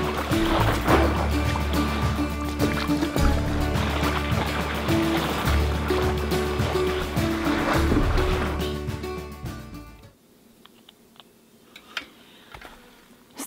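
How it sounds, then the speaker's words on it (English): Small waves wash against a canoe on a lake at a remote off-grid property, a steady close lapping and splashing that drops away near the end, leaving faint ticks and quiet. "We've got a little bit of wave action coming in."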